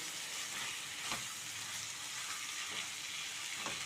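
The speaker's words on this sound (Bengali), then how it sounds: "এটাকে যতক্ষণ না কাঁচা গন্ধটা যাচ্ছে ততক্ষণ পর্যন্ত একটু ভালো করে ভাজবো" Spices for chicken tehari fry in a pot with a steady, dense sizzle and occasional soft stirring scrapes, close and continuous, with no voices.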